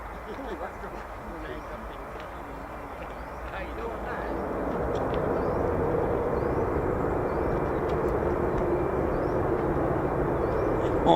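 An F-15 fighter jet passes at RAF Lakenheath as a broad, steady jet roar that swells louder about four seconds in and holds there, with faint voices underneath.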